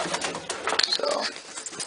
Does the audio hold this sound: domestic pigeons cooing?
yes